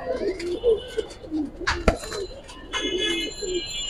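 A female gangchil pigeon coos in soft, repeated low calls close by, with several short voiced phrases broken by a sharp click and some rustling.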